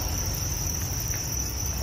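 Thai crickets on a cricket farm chirping in a steady, shrill, unbroken trill, close and alone with no voices.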